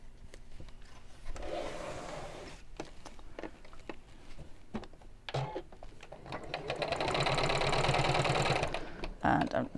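A sewing machine stitches fabric around in a circle, its needle whirring in short bursts and stops, then running longer and louder toward the end, with a voice talking at times.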